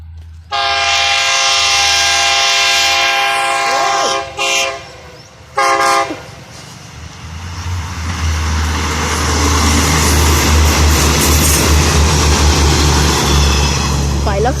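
A loud, sustained train horn blares twice with a short break, then an express train rumbles past nearby through an automatic level crossing with rattling and clattering wheels.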